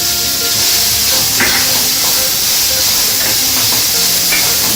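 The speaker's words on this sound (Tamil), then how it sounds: "வெங்காயம் இந்த அளவுக்கு நல்லா வதங்கிச்சுங்க" Onions sautéing in a pan for vegetable kurma produce a loud, dense, steady hiss of frying, with faint occasional stirring knocks beneath it.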